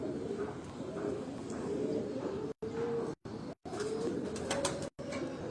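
A pigeon with a black-tipped waxy beak and yellow eye coos softly and repeatedly, with someone talking steadily over it and a few faint clicks in the background.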